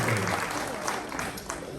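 Audience applause at a mayor's New Year greetings ceremony in Pomponne, a steady wash of clapping that fills the short stretch at moderate loudness, with a faint voice running underneath.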